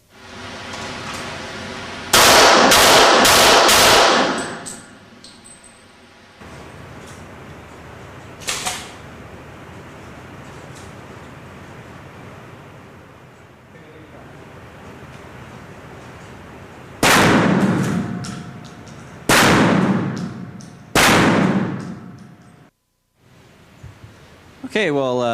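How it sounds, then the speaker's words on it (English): A 12-gauge shotgun fires rifled slugs in a series of loud, sharp blasts, a cluster of rapid shots early on, a single report mid-way and three more near the end, with people talking in between. "That's a 12-gauge shotgun shell round, and what I fired there was a what we call a rifled slug."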